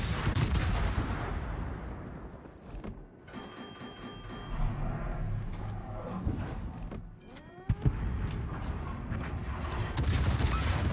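Naval gunfire booms in the World of Warships video game as shells come in, with heavy repeated blasts, a rumbling backdrop and a sharp close impact near the end.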